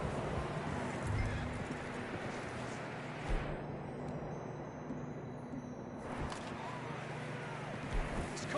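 Horses' hooves clip-clop steadily on the ground while riders travel through wilderness in the video game Red Dead Redemption 2, mixed with wind and game ambience at moderate level, with an occasional whinny and no speech.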